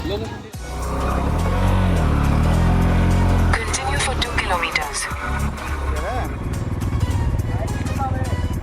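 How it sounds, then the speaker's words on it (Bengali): A motorbike climbs a hill road toward Damakal waterfall in Jharkhand, its engine droning loud and steady close by with a few shifts in pitch, while people talk over it. "আমরা বাইক নিয়ে যেয়েই যাচ্ছি"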